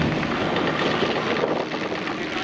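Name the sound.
SE5A biplanes flying over at an airshow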